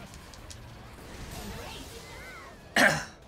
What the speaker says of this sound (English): What's with these unedited coughs?